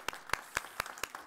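Light applause at a research forum, sparse and quiet, about six separate claps at a steady beat, like a small group clapping lightly.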